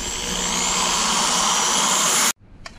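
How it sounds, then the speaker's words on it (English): A power drill with a small bit widens a hole while mounting a camera on a converted school bus, a loud steady whine running for two seconds before stopping abruptly, followed by faint clicks. "I'm gonna widen the hole just a little bit."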